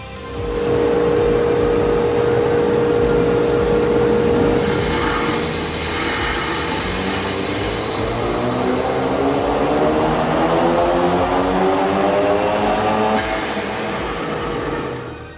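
A 2016-2018 Ford Focus RS fitted with a Mishimoto air intake revving on a dyno, a loud sustained engine roar climbing steadily in pitch through a long pull before settling, with no talk.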